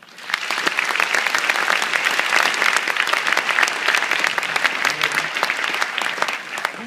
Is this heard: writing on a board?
no